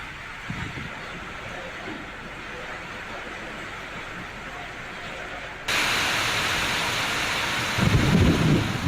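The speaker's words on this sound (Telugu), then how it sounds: "ఉరుములు, మెరుపులతో వర్షం కురిసింది." Steady, dense rain hisses throughout, suddenly growing louder partway, with a low rumble of thunder rolling in near the end.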